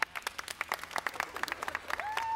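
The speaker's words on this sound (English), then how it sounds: "Let's cheer for Elizabeth!" Audience applauds and cheers for Elizabeth on her quinceañera night, a few dozen scattered, fairly quiet claps in an uneven rhythm, ending as a high tone rises.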